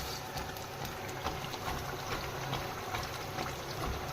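Finger fish fries in oil over low heat, giving a steady, moderately quiet sizzle with dense crackling and fine popping throughout, with no talking.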